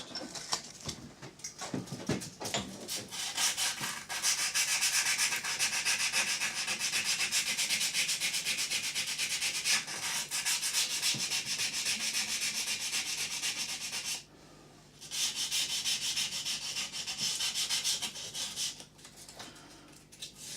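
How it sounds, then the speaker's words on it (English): Sandpaper rubs steadily by hand against a metal part of a Myford lathe under restoration, a continuous close scratchy rasp that stops briefly before resuming. "And then I sand next."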